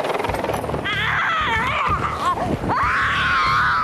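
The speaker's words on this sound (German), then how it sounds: "Ein Schrei wurde zum Symbol der 5. Staffel." A loud, drawn-out scream from a contestant on the German reality show Big Brother, season 5. It rises and wavers in pitch, breaks off briefly, then surges again with a strained, shrill edge over a rumbling room background.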